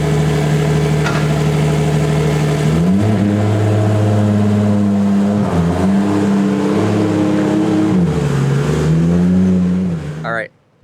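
Big-block engine in a Formula Drift car running loud and rough, idling with several throttle swells that rise and fall, close by, with people talking over it.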